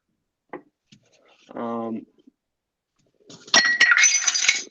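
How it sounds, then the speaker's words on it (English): Glass breaking on a hard surface, a loud crash with bright tinkling shards that follows a few faint knocks and a short voiced sound earlier on. "I just broke glass"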